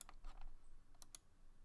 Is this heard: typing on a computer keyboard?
yes